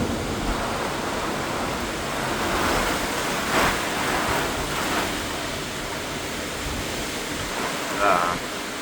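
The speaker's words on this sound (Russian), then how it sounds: "Это такой сильный ветер." A strong squall wind with heavy rain in Rostov-on-Don roars as a constant broadband rush with gusty swells, loud and close, with a brief burst of louder noise near the end.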